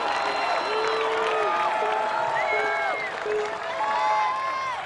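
A large crowd cheers, whoops and applauds at an American Ninja Warrior competition, loud and sustained throughout, with shouting voices rising above the roar.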